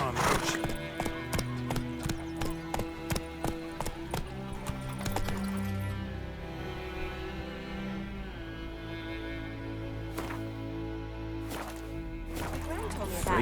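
Geralt's horse Roach trots in The Witcher 3, hooves clip-clopping in a quick, steady rhythm that fades after several seconds, set against game music and ambient sound with a voice speaking.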